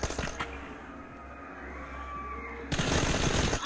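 Gunfire in a multiplayer team deathmatch shooter game, a rapid automatic burst ending in a headshot, crackles steadily at moderate loudness before a sharper, louder volley erupts near the end.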